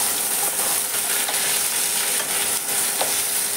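Raw mango launji frying in a pan while being stirred, a steady bright sizzle with faint scraping strokes, close and continuous without talk.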